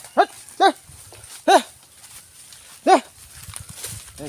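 Four loud bellowing animal calls, closely spaced at first then one more after a pause, with faint rustling and low background noise between.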